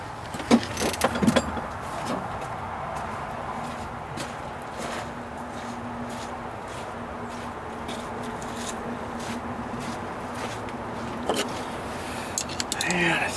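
A John Deere 110 TLB tractor engine is cranked over with a short burst of clatter, then settles into a steady, droning idle hum that carries on to the end with a few knocks and rattles on top.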